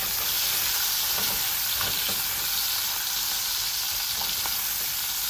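Shrimp frying in hot oil give a steady, loud sizzle and hiss, with a few soft stirring clicks and scrapes rising through the constant crackle.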